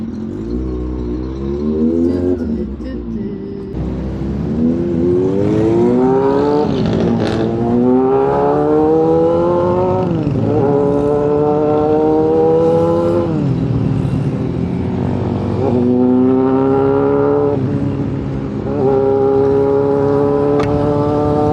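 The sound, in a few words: motorcycle riding through city traffic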